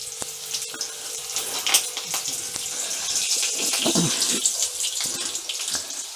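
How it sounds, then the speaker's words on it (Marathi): Cumin and mustard seeds crackle and sputter in hot oil for a tempering, a dense, continuous hiss of pops close by with a few sharper spits, no talking. "जिरं मोहरी छान तडतडले"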